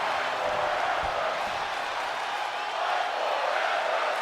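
A steady, dense roar from a wrestling arena crowd in the WWE 2K video game, continuous and loud throughout with no breaks, like sustained cheering during a match.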